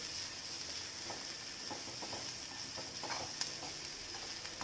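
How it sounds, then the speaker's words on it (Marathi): Onions and chillies frying in oil in a pan over medium heat give a faint, steady sizzle with light crackles and the occasional stir. "कांदा फक्त जळेपर्यंत भाजायचा नाही आहे मिडियमच ठेवला आहे मी"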